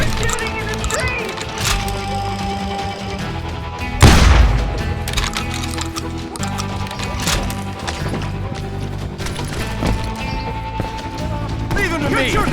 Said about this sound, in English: You're shooting in the street!